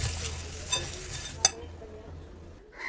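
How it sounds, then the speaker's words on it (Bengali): Chanachur snack mix tossed with beet salt in a bowl gives a soft, continuous rustling stir, broken by two brief clinks against the bowl, close and fairly quiet. "1 চা চামচ বিট লবণ দিয়ে ভালো করে মিশিয়ে নিব।"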